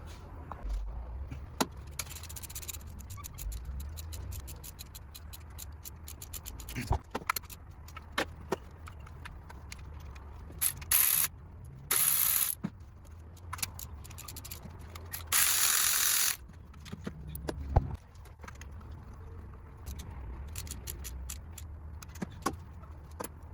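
A ratchet working a spark plug loose on a 2007 Nissan Maxima 3.5 engine, heard as intermittent clicking and metallic scraping with brief louder bursts and clinks over about twenty seconds, no talking.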